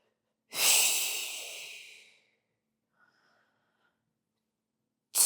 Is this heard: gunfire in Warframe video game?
no